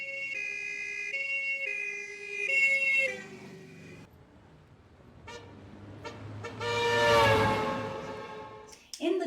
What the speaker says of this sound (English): you hear an ambulance, and you hear that it goes from a higher pitch, a higher tone of a note, to a lower tone when it passes by you